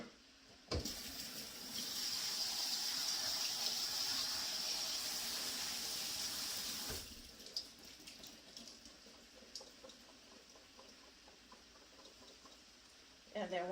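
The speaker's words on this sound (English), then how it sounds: "I've got some cannelli beans that I'm rinsing off." Tap water runs over canned cannellini beans in a kitchen sink, a soft steady hiss and splash for several seconds that then stops, with faint talk around it.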